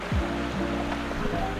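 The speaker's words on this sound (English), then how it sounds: "we're at the first cascade. So I think there's like three cascades, and then you get to the main waterfall" Broadband rushing water from the first cascade below a waterfall on a walk toward the falls in Tasmania, steady and fairly loud throughout, with a brief low tonal rumble near the start.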